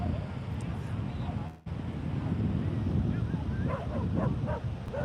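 Dogs bark at an off-leash dog beach in San Diego, a few short barks in the distance under wind buffeting, surf noise and a talking voice.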